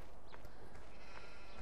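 Sheep bleating in the Farming Simulator 2013 video game, a couple of short wavering bleats over a steady droning game soundscape.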